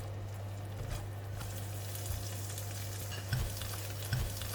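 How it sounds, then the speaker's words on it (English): An egg stirred as it fries in a hot wok, a steady sizzle with a low hum beneath and a few scraping stir strokes near the microphone, no talking. "As the egg is cooking, stir it to get a nice marbling of egg yolk and egg white"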